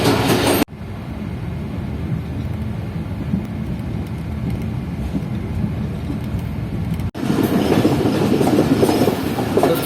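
The Awam Express rumbles past loud and close with a continuous roar and rattling clatter of wheels on rails. Abrupt cuts at the start and near the end jump in and out of the noise.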